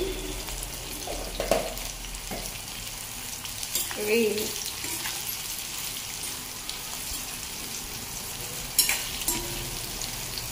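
Bitter gourd pieces fry crisply in hot oil with turmeric, a steady close sizzle and crackle with a few louder pops and stirring clatters scattered throughout.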